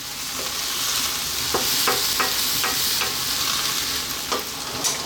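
Beef and broccoli stir-fry in oyster sauce sizzles steadily over high heat, with several sharp utensil scrapes and clicks against the pan spaced through the continuous fry, close and fairly loud with no talking.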